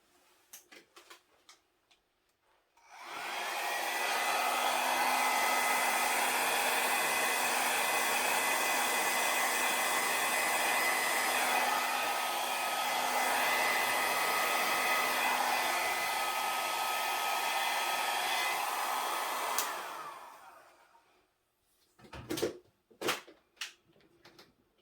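A hair dryer blows across wet acrylic paint in a fluid art Dutch pour, starting abruptly and holding a loud steady whoosh for about seventeen seconds before switching off, followed by a few soft clicks and knocks.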